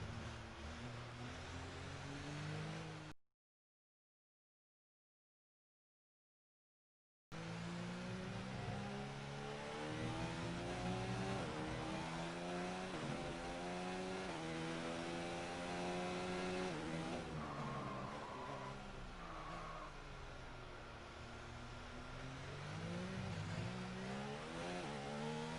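A car in a racing video game's drifting contest revs hard, its engine note climbing and falling in repeated sweeps. The engine is loud and continuous apart from a few seconds of dead silence early on.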